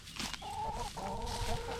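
Chickens cluck close by in a short run of repeated, nasal calls from hens hunting around the coop, with no talking over them.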